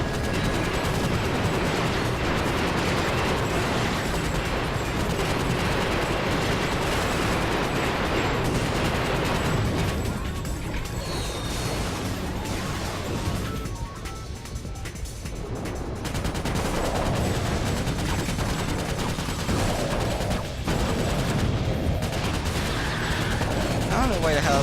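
Heavy gunfire in the Ratchet & Clank Deadlocked video game, dense bursts of rapid shots and blasts almost continuously across the clip, with a short lull midway and game sounds under a speaking voice.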